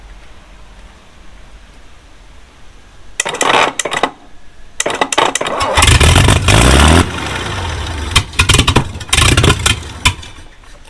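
An abandoned 1950s Rolls Royce engine, run with a suspected governor fault pulling the throttle on, bursts into loud, rough surges that rise and hold for several seconds, then break into choppy, uneven roars.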